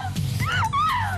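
A woman gives a single rising and falling wailing scream of roughly a second, loud and close, set against a low background murmur in a dramatic indoor scene.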